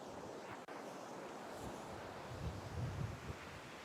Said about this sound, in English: there's a bit of a breeze, and it's getting too it's just too windy to keep it steady